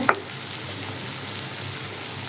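Jackfruit seeds and dried fish frying in a pan give off a steady, even sizzle. One brief clatter sounds at the start, and there is no talk.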